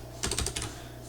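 Keys clack on a computer keyboard during coding, a few quick bursts of keystrokes separated by short pauses, close and moderately loud, with no talk.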